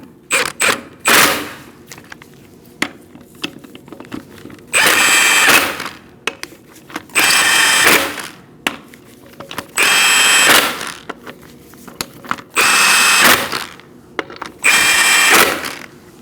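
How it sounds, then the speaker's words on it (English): A power tool with a 19mm socket runs lug nuts tight on a 2004-2012 Chevrolet Colorado wheel in five loud whirring bursts, each about a second long and separated by short pauses, close to the microphone. "You're going to tighten your lug nuts in a crisscross manner using a 19mm socket."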